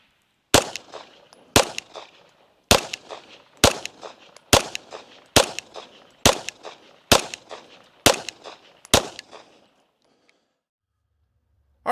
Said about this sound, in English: let's shoot one more 10-shot group